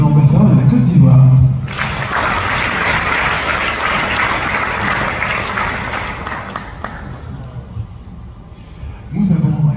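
An audience at a formal event applauds an ambassador, a dense burst of clapping that swells and runs for several seconds before fading, with a voice speaking just before and returning as it dies away.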